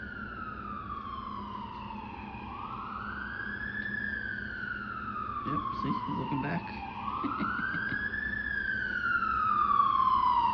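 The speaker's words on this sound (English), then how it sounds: "You hear the ambulance?" An ambulance siren wails across the street in slow rising and falling sweeps, moderately distant and gradually growing louder, while someone speaks briefly nearby.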